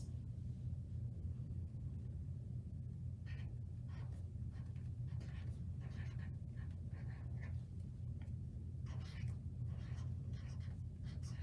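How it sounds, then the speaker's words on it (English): A pen writes a name on a homemade coupon book, giving soft, scratchy strokes in short bursts over a steady low hum of room noise. "So I'm gonna go ahead and write her name on it"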